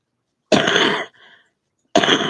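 A person gives two harsh, close coughs separated by a short pause, with a brief quieter throat sound in between.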